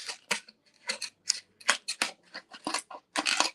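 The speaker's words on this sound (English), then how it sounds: "My little Cricut scissors." Small Cricut craft scissors snip through paper in a quick series of close, crisp cuts with brief gaps between them, heard alone without talking.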